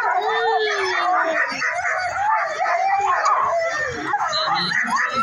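Many sled dogs behind the start line of a race, howling, yipping and whining together in a loud, continuous chorus with wavering pitches.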